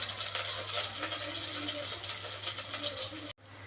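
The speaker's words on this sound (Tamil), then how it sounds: "இதை கழுவிட்டு இதை அப்படியே போடலாங்க" Uncooked rice is rinsed under running water in a home kitchen, a steady rushing splash that stops abruptly just before the end and then resumes.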